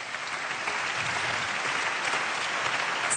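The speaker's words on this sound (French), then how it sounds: "on peut l'applaudir." An audience at an award ceremony applauds, a continuous dense patter of many hands clapping, even and sustained from start to finish with no talk on top.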